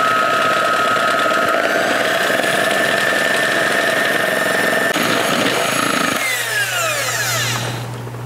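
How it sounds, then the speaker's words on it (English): An electric hand mixer beats egg whites for waffles to a foamy texture, a steady loud motor whine with a bowl-scraping rattle running throughout, its pitch shifting partway before winding down near the end. "The secret to great waffles is beating the egg whites until they're into a nice foamy texture."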